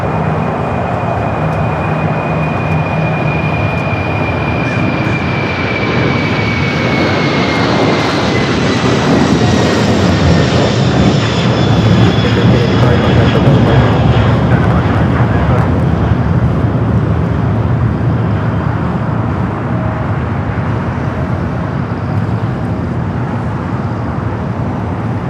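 An airliner departs Los Angeles International Airport for Honolulu, a loud sustained jet roar swelling and rising in pitch mid-clip, engine whine sweeping upward, faint talk in the background.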